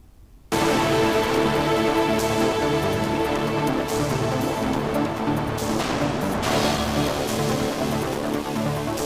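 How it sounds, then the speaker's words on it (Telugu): Heavy rain falls in Vijayawada, making a loud, dense and steady hiss that starts abruptly after a brief quiet moment and then carries on without a break. "వర్షం ఊపిరి పీల్చుకోనివ్వకుండా మళ్లీ కంటిన్యూ పడుతోంది"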